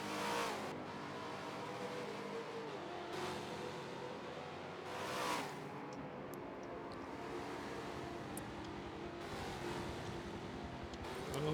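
Trans Am race car from Forza, racing at Laguna Seca in a 2020 historic series event, its engine a steady loud drone with rising and falling revs and a few sharper bursts as cars pass.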